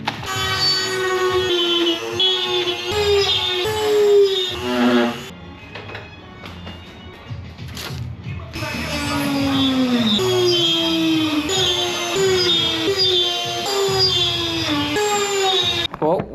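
A Dremel drills holes in front over fenders on a boosted Mazda Miata, a loud, high-pitched whine that shifts in pitch as it cuts, breaks off briefly midway and then runs on steadily.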